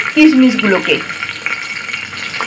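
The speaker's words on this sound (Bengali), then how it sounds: "কাজু বাদামটাকেও হালকা ভেজে নেব" Cashews lightly frying in a pan for vegetable pulao: a soft sizzle and stirring run beneath a voice speaking at the start.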